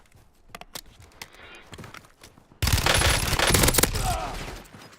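A Fennec submachine gun in Warzone fires a loud, sustained burst that starts abruptly about halfway through, after a stretch of quieter clicks, thuds and footsteps.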